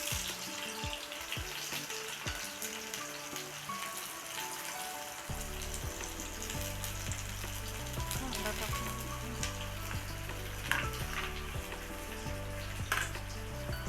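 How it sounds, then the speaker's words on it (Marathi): Onion roasting in a pan for shev bhaji sizzles loudly and continuously up close, with a few clicks of stirring and a low hum, with no talk over it. "त्याच्यामध्येच आपण कांदा पण भाजून देऊ कांदा टाकून घेतली"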